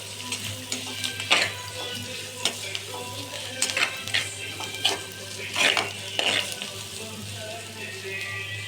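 Coriander and mint sauté in a pan for a Kerala-style chicken biryani, giving a low sizzle under a steady hum, broken by scattered scrapes and clinks of a spoon against metal.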